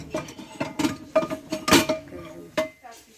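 Pots and a frying pan with a lid being handled and knocked together, a series of sharp metallic clanks and clatters at irregular intervals, close and fairly loud.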